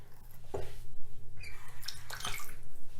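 Tap water runs and splashes in a bathroom sink while a comb is rinsed with hand soap, with short bursts of splashing and dripping over a steady low flow.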